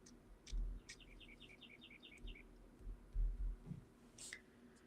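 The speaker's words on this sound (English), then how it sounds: "we've got some birds chirping" Small birds chirp outdoors on a mild winter day, a quick run of repeated high tweets followed by scattered single calls, faint and somewhat distant over low background rumble.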